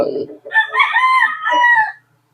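A gamecock stag crows once on a game farm, a loud, close, drawn-out cock-a-doodle-doo that follows a brief rough sound and then falls silent.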